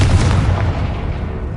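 A Confringo fire spell explodes in Hogwarts Legacy on PS5, a loud deep boom with a rumbling blast that fades slowly over under two seconds.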